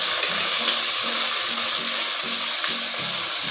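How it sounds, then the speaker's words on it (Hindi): Garlic-ginger paste, ground onion and masala frying in hot oil for chicken kofta, a steady close sizzle and crackle with faint stirring scrapes throughout, no talk. "उसको थोड़ा भूनेंगे हम"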